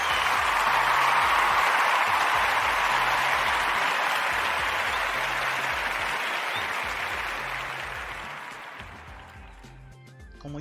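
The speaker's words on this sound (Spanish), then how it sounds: "vamos a darnos nuestros aplausos." An audience claps together in sustained, dense applause that holds steady and then gradually fades out over about ten seconds.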